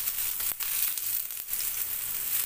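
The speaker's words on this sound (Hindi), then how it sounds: "तवा जैसा हो उस हिसाब से आप रोल को एक साथ या थोड़ा थोड़ा करके सेक लीजिए बराबर से।" Frankie rolls fry on a large tawa with a close, continuous hiss of sizzling oil, briefly dipping twice as if the rolls are shifted, no voices.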